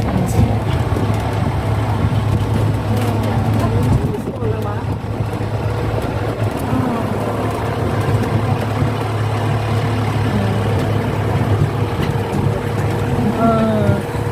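A tractor engine chugs in a steady, loud low drone throughout the ride, with voices talking over it.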